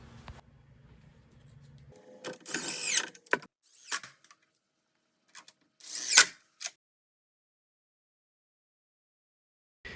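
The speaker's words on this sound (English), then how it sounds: "you need to apply some pressure when screwing in your screws" Power screwdriver driving screws into the parts of a KICK Majesty 55-inch folding foosball table, no pre-drilled holes, in short whirring bursts with clicks and handling knocks between them and a quiet stretch after.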